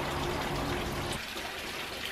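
Water from a back-garden water feature runs steadily with a broad splashing hiss, close and continuous, a little quieter in its second half.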